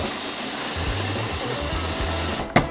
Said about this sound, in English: 20 seconds on the grinder. Go.